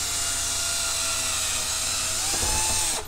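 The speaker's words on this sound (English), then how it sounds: "I'm going to do a pilot hole with this 3/16 inch drill bit" A power drill fitted with a 3/16 inch bit bores a pilot hole through a plastic PC case bezel, a steady high-pitched whine held close and loud for about three seconds before winding down.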